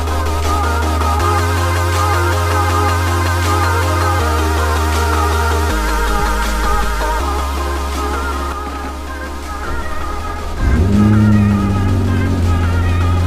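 A Lamborghini Aventador warming up at a track day idles loudly and steadily, its low rumble shifting pitch, then rising into a louder rev near the end.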